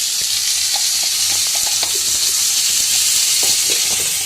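Mango pieces for chutney, seasoned with turmeric and salt, sizzle and fry in a pan while being stirred, giving a steady close hiss broken by light scraping and clinking stirs.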